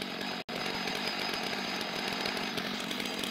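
Chainsaw running on a Logosol mill as it rips through a log, a loud continuous high-revving whine that holds steady apart from one brief dropout near the start.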